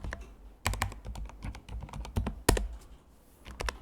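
Fingers type on a computer keyboard in uneven bursts of close, crisp clicks, one sharp louder keystroke partway through, with short pauses between flurries and no speech.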